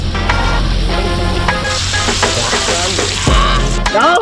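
Uyabang (lobster) sizzles loudly in hot cooking oil, a dense continuous frying hiss with stirring scrapes, close up and lasting throughout.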